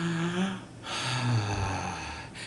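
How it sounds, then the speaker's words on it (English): A person takes a deep, slow breath from the diaphragm, one long audible inhale followed by an exhale with a slight nasal snort, heard up close with no talking. "I'm able to take a deep breath because of the diaphragm."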